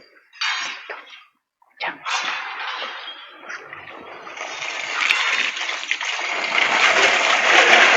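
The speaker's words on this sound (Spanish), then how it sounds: "lo que vamos a hacer es echarle agua a mi muestra" Water is poured over a sand and gravel aggregate sample as it is washed, a rushing, splashing flow that starts in short bursts and swells into a steady broad gush.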